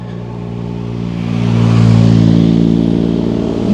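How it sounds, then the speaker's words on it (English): Motorbike engines rumble and swell as they pass close by going up a steep hill, growing louder toward the middle and then easing slightly. "Motorbikes."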